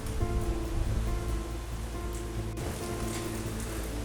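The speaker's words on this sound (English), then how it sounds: "the rain began to fall again, a little bit heavier this time" Steady rain pours down with a continuous broadband hiss and patter, gusting slightly, with a low rumbling background throughout.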